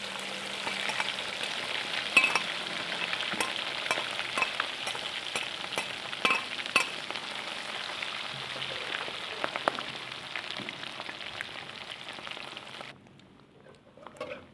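Beef for soto padang fries in hot oil, giving a steady crackling sizzle with occasional sharper pops and stirring clatter, moderately close, before the sizzle cuts off near the end.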